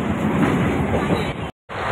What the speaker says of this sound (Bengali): শুরু হয়ে গেছে ট্রেন, বেরিয়ে পড়েছে এবার বাড়ির দিকে যাত্রা